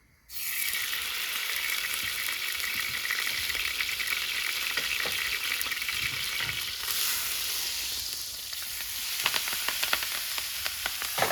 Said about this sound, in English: Just want to saute this a little bit.